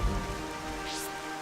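Rain falls in the Xenoblade Chronicles video game, a steady patter of drops over a soft ambient music bed, brief and close with no voices.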